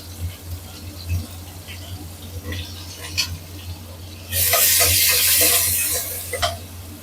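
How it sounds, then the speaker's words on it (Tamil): Onions sizzle in hot oil as they are stirred in a pan, with a sudden loud burst of frying hiss partway through and occasional utensil scrapes. "இதில் வந்து நம்ம வெங்காயம் தான் முதல் போட்டு தாளிக்க போகிறோம்"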